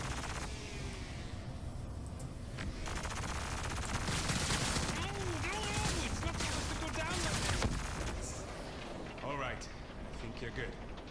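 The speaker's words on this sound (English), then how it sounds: "these rail guns or whatever, I like them" Rapid bursts of rail gun fire in the space game Star Citizen, dense crackling volleys layered over game effects and background music, with a voice talking throughout.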